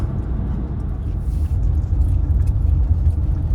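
A big car rumbles past on a rural road along Ireland's Wild Atlantic Way, a close, steady low roar that swells slightly over a few seconds.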